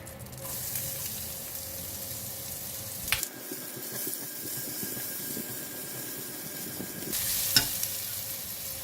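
Garlic sizzles in a pan for salted fish fried rice, a faint steady crackle with scraping stirs, a sharp clatter near the start and a brief hiss swelling toward the end.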